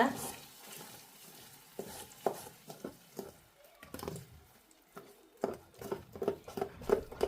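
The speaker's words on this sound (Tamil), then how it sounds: "இந்த பேரிச்சம்பழ பேஸ்டில் இதை ஊற்றி கொள்ளுவோம். ஊற்றிட்டு இதை நல்லா மிக்ஸ் பண்ணி கொடுங்க" Caramel syrup being worked into a thick dates paste for a dates cake, with soft irregular stirring and scraping strokes that grow quicker and louder toward the end, heard nearby without speech.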